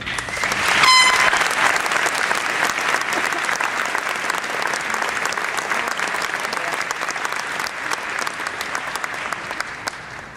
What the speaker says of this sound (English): May we ask you kindly to withhold your applause until the entire list of graduates has been called.